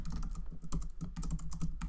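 Someone types quickly on a computer keyboard, close up, producing a dense patter of key clicks without any speech.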